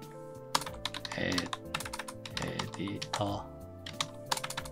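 Computer keyboard typing in a screen-recorded After Effects 2024 tutorial, entering text with the type tool; short bursts of key clicks mix with a voice and steady background tones.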